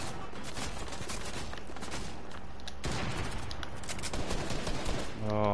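Rapid bursts of gunfire rattle through a PS4 shooter match, dense and continuous across the moment with a player talking over the shots.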